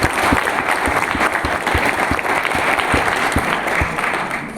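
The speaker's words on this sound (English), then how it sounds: "So a big round of applause for both these actors." An audience applauds for two actors at a television interview, steady dense clapping sustained throughout at fairly loud level with no talk over it.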